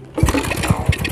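A motorbike engine sputters to life, firing in a few quick, uneven pulses that settle into a rough, close running chatter.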